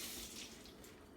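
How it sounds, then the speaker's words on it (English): Water runs steadily in a soft, close hiss, rinsing stain off a microscope slide, with no voices. "we'll rinse off the stain"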